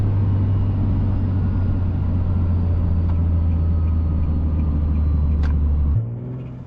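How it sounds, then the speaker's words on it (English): A supercharged Nissan 370Z with a TopGuns ACE kit decelerates from high RPM with a loud, steady drone and a faint whine, then the engine note drops suddenly near the end, heard from inside the car. "whenever I'm on decel, especially from a higher RPM, it almost sounds like a jet engine spooling down"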